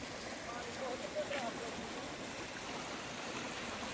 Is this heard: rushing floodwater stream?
yes